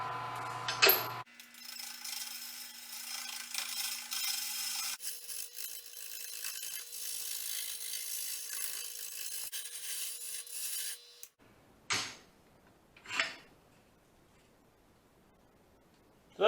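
A wooden handle is turned on a lathe with a carbide bit, giving a soft scraping, rasping rub in two sustained passes, followed by a few brief separate knocks and scrapes with quiet gaps between.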